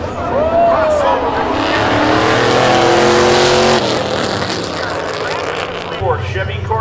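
Race cars in a spectator drag race at Seekonk Speedway scream past close and loud, engines revving hard with tire squeal, while an announcer's voice calls the action over the din.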